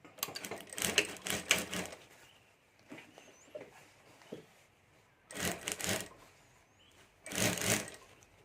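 A sewing machine stitches a fabric strip onto a handmade Banjara bag in short stop-start bursts, each a quick rattling run of stitches, close and moderately loud with quiet gaps between.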